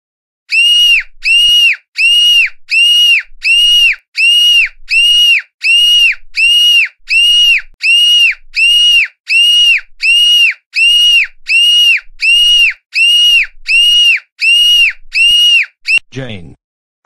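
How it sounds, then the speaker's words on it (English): Cartoonish banshee scream as a loud, piercing electronic shriek, pulsing about once per second for roughly sixteen repeats, then breaking off into a brief falling squeal. "how dare you start a banshee scream?"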